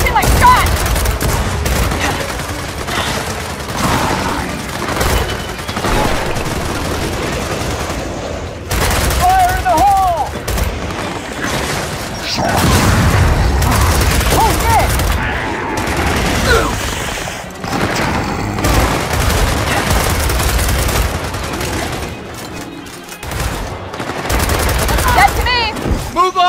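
Dense bursts of gunfire and booms rattle through Gears of War 4 combat, rapid volleys near and loud, with voices shouting over the shooting throughout.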